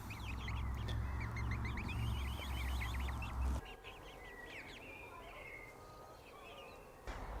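Several ducks quack and chatter in a garden, faint and somewhat distant, with a low rumble under the first half that drops away, leaving the calls over quiet background.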